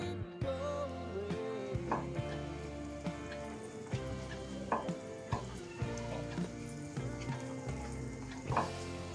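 Butter melts in a pan for a white sauce for macaroni, giving a soft, continuous sizzle with small scattered pops and light stirring clicks, quiet and close with no talking.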